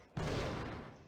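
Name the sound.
gunshots in the video game Indigo Prophecy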